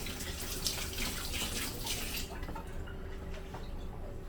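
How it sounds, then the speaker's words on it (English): A kitchen faucet runs and splashes as hands are rinsed under it, then the flow stops, leaving quiet room tone. "Let me wash my hands."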